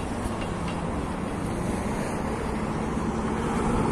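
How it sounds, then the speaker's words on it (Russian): A double-decker electric commuter train rolling past outdoors in Moscow, a steady loud rumble and wheel roar filling the whole stretch without a break. "Вот, кстати, двухэтажные электрички."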